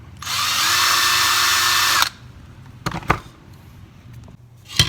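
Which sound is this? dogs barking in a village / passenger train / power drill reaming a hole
power drill reaming a hole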